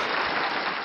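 A short burst of crowd applause sound effect, a dense, loud, steady wash of clapping lasting under a second, with no talking.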